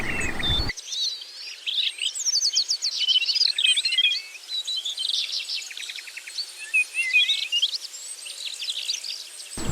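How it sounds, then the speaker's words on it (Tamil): A mother sparrow in a cartoon chirps in rapid, bright twittering bursts close up, with cricket-like insect trills in the background and no talk, after a brief low rumble at the start. "அம்மா குருவி வீட்ல இருந்து காட்டுக்குள்ள பறந்து போச்சு."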